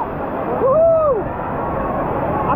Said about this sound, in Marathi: पाण्याचा जोरदार फोर्स.